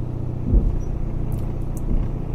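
Steady low engine rumble and road noise from a Renault Master H2L2 van on the move, a continuous drone with a couple of slightly louder swells, no voices.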